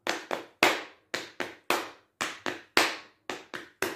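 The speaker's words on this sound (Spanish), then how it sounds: "Con palmas en la rodilla, siempre la última palma arriba" Palms slap on knees in a steady rhythmic pattern of crisp, close pats, some in quick pairs, each with a short decay, played alone with no other sound.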